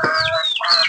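Country chickens in a shed give short, close clucks and a rising call in quick succession. No one speaks.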